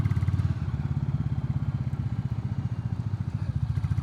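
Royal Enfield Classic 350, a 20 hp single-cylinder motorcycle, cruising at about 80 km/h with a steady, loud low thumping engine pulse and continuous wind rumble throughout.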